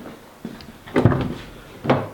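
Car door on a Mitsubishi Shogun trayback being shut in a garage after door pillar welding repairs; a light knock, then two solid closing thuds, the last near the end, with no talk.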